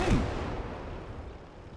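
A heavy explosion in the WWII strategy game Gates of Hell: Ostfront, Finland campaign, booming loud at the start then rolling off into a long, fading rumble with no talk.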